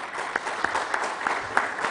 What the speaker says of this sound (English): giving them a quick round of applause